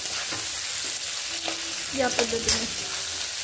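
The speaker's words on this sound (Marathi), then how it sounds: "तर हे व्यवस्थित मी भाजून घेणार आहे कांदे सगळे" Sliced onions for egg biryani fry in a pan with a dense, steady sizzle and the occasional scrape of stirring. A short spoken phrase comes in over the frying.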